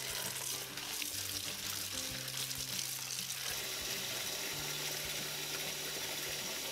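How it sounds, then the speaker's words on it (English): Dried lotus leaves rinsed in water in a kitchen, a faint continuous stream of running water and sloshing, quiet and steady, with no talk. "rinse and rehydrate the lotus leaves in water"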